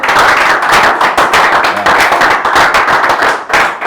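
A church congregation breaks into loud, continuous clapping and cheering, dense overlapping hand claps close by, with no voices talking over it.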